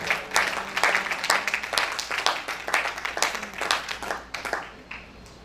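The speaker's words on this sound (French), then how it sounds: "Let us clap for the Lord." A church congregation claps steadily for several seconds, a dense, fairly close wash of many hands that thins out near the end.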